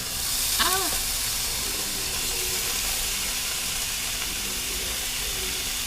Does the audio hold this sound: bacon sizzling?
yes